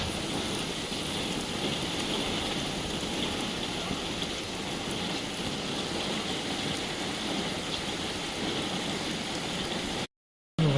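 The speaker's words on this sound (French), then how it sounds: "on entend bien la pluie qui tombe sur le toit" Steady, dense rain drums on a roof during a thunderstorm, heard from indoors as a continuous close hiss and patter that runs unbroken before cutting out briefly at the very end.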